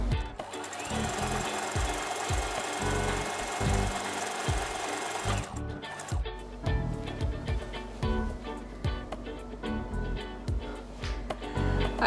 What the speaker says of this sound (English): I'm just gonna be sewing this side and this part down